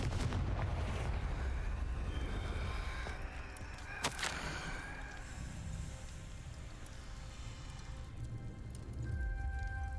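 A Confringo fire spell bursts in Hogwarts Legacy, a dense rumbling blast with a sharp crack partway through, then a lingering low roar and crackle that fades into ambient game sound.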